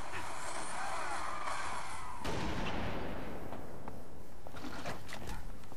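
Weapons fire in a Halo Reach multiplayer Slayer match, with a long rushing blast followed by a booming impact and scattered sharp shots, loud and close, with gameplay noise around.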